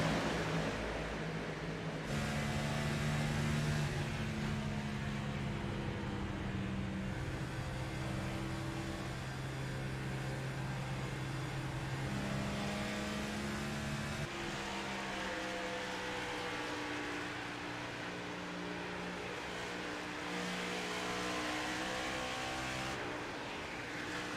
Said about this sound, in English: shut up for a minute so I can listen to these engines roar